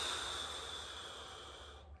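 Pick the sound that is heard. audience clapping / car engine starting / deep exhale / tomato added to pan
deep exhale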